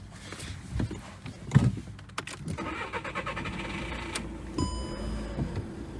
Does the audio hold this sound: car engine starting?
yes